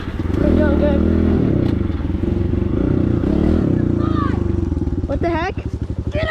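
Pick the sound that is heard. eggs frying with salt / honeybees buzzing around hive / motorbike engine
motorbike engine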